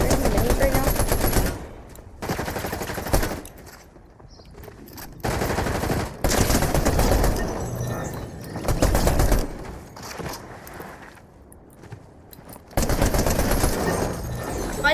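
Bursts of rapid gunfire from the Fortnite video game come in several loud, dense volleys separated by brief quieter gaps, with some voices underneath.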